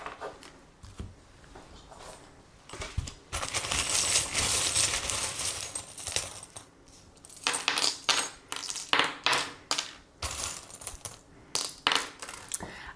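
Tarot charms cast and clinking together, a bright cluster of small metallic jingles and clicks in bursts, close and fairly quiet, with no talking.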